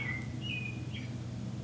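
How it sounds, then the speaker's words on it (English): A backyard bird whistles a few thin, high chirps at a distance, faint over a steady low background hum. "I'm starting to think that bird is really loud out there."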